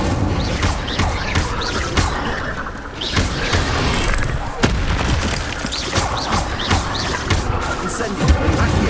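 In Hogwarts Legacy, repeated casts of the Incendio fire spell burst out as heavy booming, crackling blasts amid dense game noise and voices, loud and close throughout.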